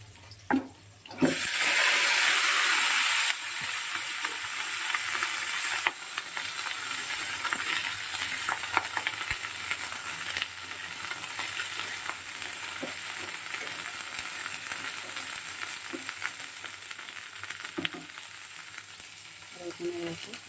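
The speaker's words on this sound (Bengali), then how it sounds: "দেখো তেলটা গরম হয়ে গেছে, সবার আগে ফুলকপিটা ভেজে নেব।" Cauliflower florets sizzle steadily in hot oil in a home kitchen, loud at first as they drop in and then settling into a continuous crackling fry with occasional stirring scrapes.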